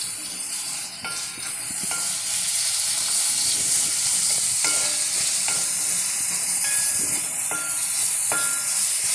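Slit green chilies fry in hot oil in a pan, a steady bright sizzle and hiss running throughout with a few faint spoon taps as they are stirred, close and continuous, for a chicken curry.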